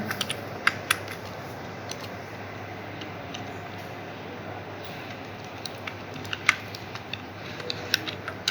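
Computer keyboard typing while writing code, soft scattered key clicks at close range over a steady background hum, with a few sharper taps standing out near the end.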